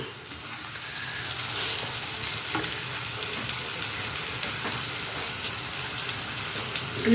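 Garlic is tossed into a pan of frying Indian gooseberry pickle mixture, producing a steady oily sizzle with faint stirring scrapes, close and continuous, with a small clatter at the end.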